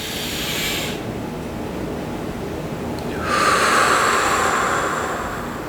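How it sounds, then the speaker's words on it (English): A person takes a slow, deep breath in and lets it out naturally, the airy inhale and exhale close and steady, with a brief quiet pause between them and no talking. "Five full deep breaths"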